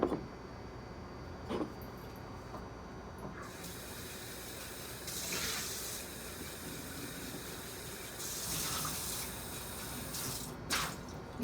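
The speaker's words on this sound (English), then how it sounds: "You want to rinse it out one more time really good." Tap water runs and splashes while a blender jar is rinsed out in a kitchen sink, with a steady wash of flow, a few brief louder gushes and some clattering handling noises.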